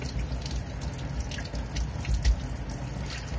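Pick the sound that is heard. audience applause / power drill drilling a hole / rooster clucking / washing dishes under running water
washing dishes under running water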